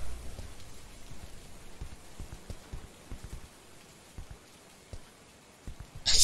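Rain in the video game Truth Loop: a steady patter of drops on surfaces, moderately close, with scattered louder taps throughout and a brief sharper burst at the end.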